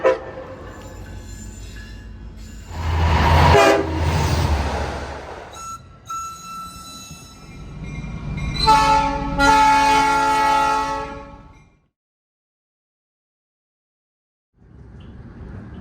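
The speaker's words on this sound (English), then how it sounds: "We're currently traveling east on the Long Island Railroad" A Long Island Rail Road commuter train rumbles eastbound along the rails with loud horn blasts sounding twice, then the noise cuts out into silence before the rumble resumes.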